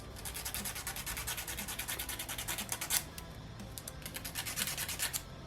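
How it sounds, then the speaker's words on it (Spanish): Steady rhythmic rasping of sanding on a small plastic model kit part, repeated back-and-forth strokes at close range, with no voices. "Podemos lijar un poco."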